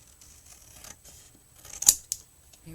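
Scissors snipping paper while a V is cut out for a graduation bap box, a couple of sharp close snips standing out from an otherwise quiet background.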